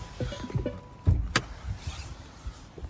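Front trunk of a Ford Puma Gen-E opening nearby: a brief motorized whir with a faint steady tone, then one sharp mechanical click as the latch releases, with light clunks around it.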